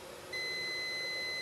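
Shorted primary rails on an Asus X409JA laptop set off a multimeter in buzzer mode: after a brief quiet moment, a continuous high electronic tone sounds close and unbroken to the end.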